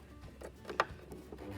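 A sewing machine stitching a pleated fabric face mask, running a little roughly, with soft mechanical clatter and one brief louder knock partway through, close and quiet.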